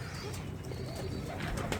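A pigeon coos softly in repeated low, throaty pulses, close by over a steady background hiss, with no speech.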